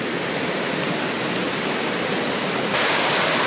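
Small waterfalls and cascading rapids at Janjske Otoke near Šipovo roar in a steady, dense rush of water heard close, growing slightly louder near the end, with no voices.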